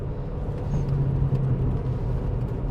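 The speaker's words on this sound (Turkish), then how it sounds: "Ağır mağır ama araba da yürüyor ha." Chevrolet Cruze 1.4 turbo with 140 horsepower and automatic gearbox cruising on a highway at about 130 km/h, a steady low engine and road rumble from inside the cabin with no talk.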